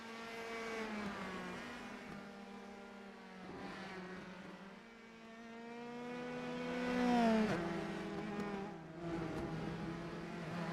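Race cars lap the New Hampshire Motor Speedway road course in iRacing, engines droning and revving through shifting gears, one car's whine swelling louder as it passes, with no voices over the motor noise.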